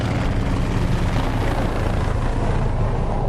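A helicopter engine in Microsoft Flight Simulator 2024 drones continuously and loud, a dense steady roar with no breaks and no voices.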